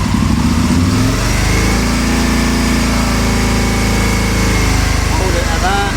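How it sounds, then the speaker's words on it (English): An Aprilia motorcycle engine is held at steady raised revs, a loud, continuous buzzing drone that stays close and even throughout, with a slight rev change near the start. "So I'll hold it at some revs now."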